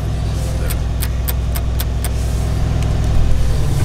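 A car idles with a low, steady exhaust rumble, joined by a short run of sharp rhythmic clicks early on, rising slightly near the end.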